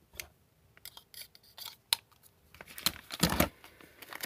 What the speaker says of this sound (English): I shall use Andrew's super industrial scissors to cut this open